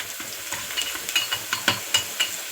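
Dry meat pieces frying in a pan, sizzling steadily while a utensil stirs and scrapes with sharp, irregular clicks, close and alone.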